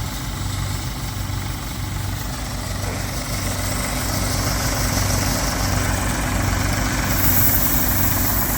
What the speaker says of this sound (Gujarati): યોગીનું થેસર હાલે છે